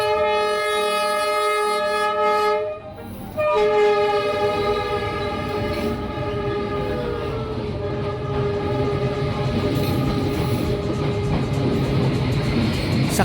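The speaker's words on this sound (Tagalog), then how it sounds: "Active pa din ang Riles na ito kaya naman kung gusto mong abangan ng pagdaan ng tren" A train moves along Train Street in Hanoi, Vietnam, a narrow street where houses stand right beside the rails. Its loud sustained horn blares twice, with a brief break between, over the continuous rumble and rattle of the wagons passing close by.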